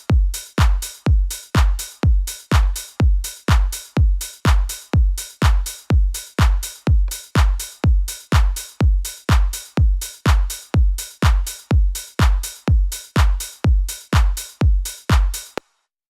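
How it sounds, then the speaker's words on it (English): Drum-machine clap sample repeated in a fast, steady pulse, each hit with a slight pitch bend up a semitone and back down, sharp, dry and evenly spaced for about fifteen seconds before stopping. "go up in pitch to, if I go all the way up, that's 1 semitone, and then sweep back down over the length of the clap"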